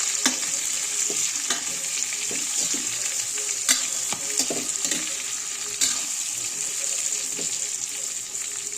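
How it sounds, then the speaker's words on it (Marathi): Brinjals being stirred and sautéed in a pan for stuffed salty eggplant, with a loud, steady hiss of oil and repeated spatula scrapes and knocks at an uneven pace, close up. "आता ही वांगी घालायची आपण आणि छान अशी परतून घ्यायची."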